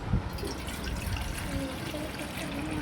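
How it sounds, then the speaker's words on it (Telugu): Water trickles and splashes faintly into a bowl, a quiet, steady pour with light background noise. "వాటర్ పోస్తున్నారు"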